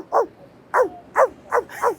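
A man imitates a boastful dog barking: five short, sharp, loud barks in an even rhythm, close to the ear, with brief gaps between them and no talk.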